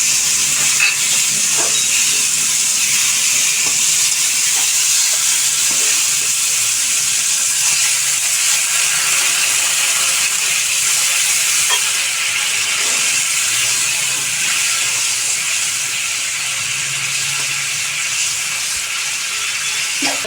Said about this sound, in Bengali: একটু ডিমগুলো দিয়ে আমি নাড়াচাড়া করে নিয়ে জল দিয়ে দেবো